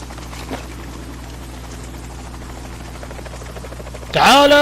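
Helicopter in Metal Gear Solid 2, a steady low rotor hum and buzz running throughout, with a sharp loud whine swelling in near the end.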